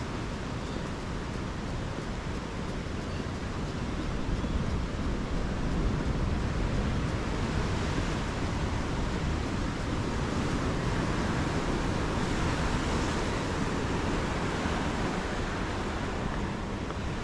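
Surf rolls onto a hotel beach in a steady, wide wash of breaking waves, with wind buffeting the microphone throughout and no voices.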